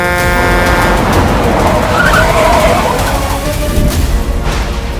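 A car driven fast with tyres skidding, a loud continuous engine roar and screeching slide filling the whole stretch, with no voices.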